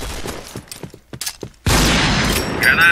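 A grenade blast in the first-person shooter Point Blank, a sudden loud burst that cuts off quieter game noise and faint footsteps, then a sustained roaring rumble with a ringing tone at the end.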